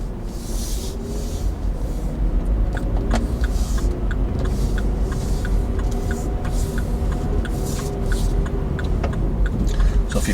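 Car driving along a road on a driving lesson, steady interior engine and tyre rumble with faint ticking, continuous and moderately loud with no clear talk over it.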